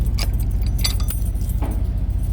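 Keys jangling and scraping against the lock of a refrigerated freight truck's trailer doors, several bright metallic clinks close up over a constant low idling engine hum.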